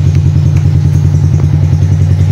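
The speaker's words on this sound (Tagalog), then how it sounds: "Itong motor na smash ni sir." Engine of a 2022 Suzuki Smash motorcycle running steadily up close, a loud, continuous low putter with rapid rhythmic pulsing and light mechanical clatter throughout.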